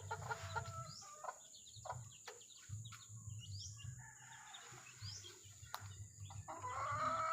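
A brooding hen of an SBR line, four days on the nest, gives soft, repeated clucks in short bursts, faint against a steady farmyard background with a few other bird calls.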